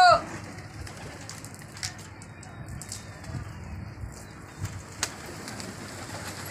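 Low soft cooing from pigeons mixed with faint rustles and a few light flutters, against a steady outdoor background hiss.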